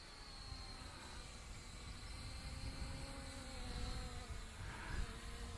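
A KFPlane TENG Mini drone's motors run at full throttle against wind, a steady high-pitched insect-like whine with harmonic tones that swell slightly louder toward the end.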